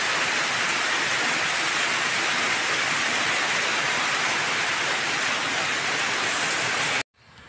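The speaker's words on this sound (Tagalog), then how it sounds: "ang lakas ng ulan ngayong hapon." Heavy afternoon rain pours in a dense, steady roar with no breaks, loud and close, then cuts off abruptly near the end.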